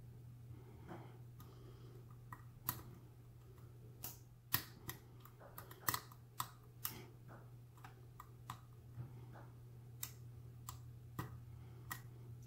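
Lock pins give a string of small, sharp clicks while a lock is being picked, irregular and close, over a steady low hum with no talking.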